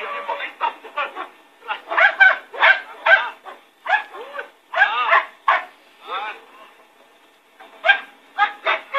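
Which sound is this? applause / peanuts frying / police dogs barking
police dogs barking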